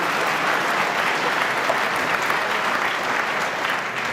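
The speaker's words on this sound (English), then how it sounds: "I don't think you often get a round of applause for a miss" Steady applause from the snooker World Championship crowd after a missed shot, a dense, even rumble of many hands clapping at moderate loudness, without anyone speaking over it.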